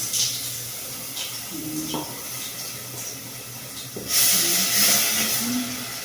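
Tomatoes go into a hot pot for Kenyan githeri and give off a steady steamy hiss. The hiss rises to a louder, brighter burst partway through. No one speaks.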